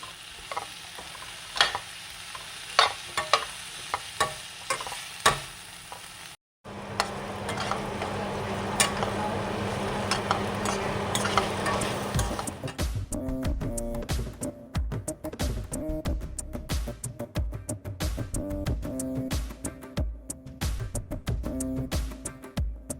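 Cauliflower egg rice frying in a pan, a continuous hiss and sizzle with a few scraping stirs early on, then a louder, denser crackle after a brief pause, close and alone with no voices.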